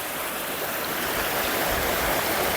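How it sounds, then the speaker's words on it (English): A stream near Graveyard Fields and Lower Falls outside Asheville, North Carolina, rushes steadily toward the top of a waterfall, a loud, continuous close-up hiss and gurgle of flowing water. "this stream leads to the waterfall, to the top of the waterfall"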